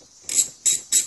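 A ratchet clicks in three quick, close strokes while removing a single nut holding a bracket shared by two modules on a 1994 VW Jetta MK3.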